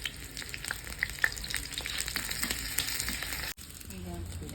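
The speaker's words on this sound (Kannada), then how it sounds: "ಶುಂಠಿನ ಹೀಗೆ ಗುತ್ತಕ್ಕೆ ಕಟ್ ಮಾಡಿಕೊಂಡು ತುಪ್ಪದಲ್ಲಿ ಬಾಡಿಸ್ಬಿಟ್ಟು" Green chillies and ginger cut into chunks fry in ghee in a pan, a close, continuous crackling sizzle with a few stirring clinks, briefly interrupted by a sharp knock.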